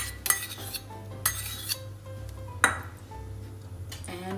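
A big metal spoon clinks against a kadai set on the flame while ghee is added, giving several sharp isolated pings spread across a quiet kitchen with a low steady hum beneath.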